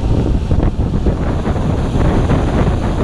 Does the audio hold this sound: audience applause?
no